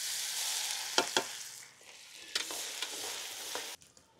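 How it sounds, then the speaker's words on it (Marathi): Chopped garlic fries in hot oil with cumin, mustard seeds and curry leaves, a steady close sizzle broken by a few spoon scrapes and taps, quieting briefly near the end. "आपला लसूण चांगला बऱ्यापैकी फ्राय झालेला आहे।"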